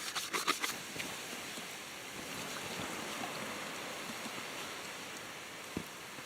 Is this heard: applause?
no